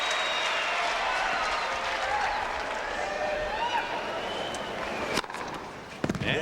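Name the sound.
crowd applauding at Arthur Ashe Stadium tennis match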